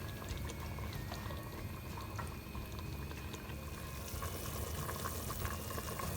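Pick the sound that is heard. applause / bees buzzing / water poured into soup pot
water poured into soup pot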